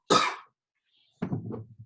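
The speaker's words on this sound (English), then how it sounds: "Somebody's got their mic on and just coughing into it." Two close, loud coughs into an open microphone during an online session, the first a sharp burst and the second, after a pause of about a second, rougher and throatier with a raspy tail.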